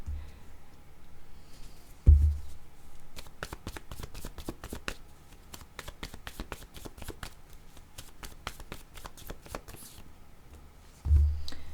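A deck of tarot cards is riffled and shuffled by hand in a quick flurry of close, crisp flutters, and duller handling thumps come at the start and end.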